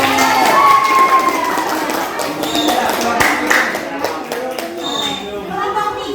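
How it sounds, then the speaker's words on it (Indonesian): A classroom of schoolchildren claps and cheers for a classmate, a short burst of lively clapping and excited young voices with a teacher's voice over it. "Beri tepuk tangan."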